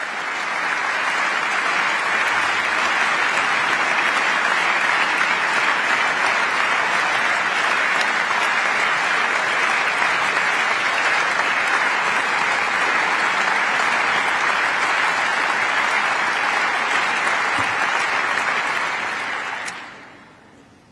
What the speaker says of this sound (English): Germany's lower house of parliament there clapping for Volodymyr Zelenskyy.